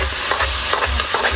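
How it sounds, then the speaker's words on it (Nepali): Tomatoes and spices fry in a pan, a loud close sizzle with repeated stirring scrapes at an uneven rhythm and no talking over it. "टमाटर र मसला भुट्दैछु"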